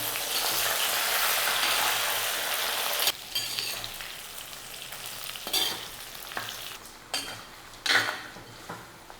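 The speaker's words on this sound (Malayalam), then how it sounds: "വഴുതനങ്ങ ഈ എണ്ണയ്ക്കകത്ത് നല്ല ഉണക്ക് നമുക്ക് വഴറ്റിയെടുക്കണം" Brinjal sautés in oil for a chutney-style gravy, starting with a loud, dense sizzle. This settles into quieter frying broken by repeated clinks and scrapes of a spatula against the pan, with no speech.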